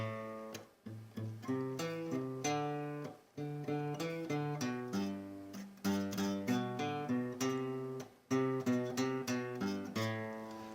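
A bass guitar plays a steady, repeating pop groove of plucked low notes with short gaps, the bass line of Miley Cyrus's 'Flowers', clear and close, no voices.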